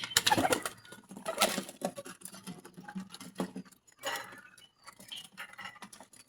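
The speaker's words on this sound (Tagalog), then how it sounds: "Ito po yung kalapati ng aking kapatid na si Onse." A pet pigeon coos in soft, irregular bursts close by, with patter and rustling between calls in an otherwise quiet space.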